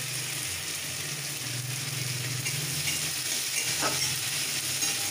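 Potatoes fry in a pan for a moong dal vegetable dish, a steady soft sizzle with occasional stirring scrapes, heard alone without talk.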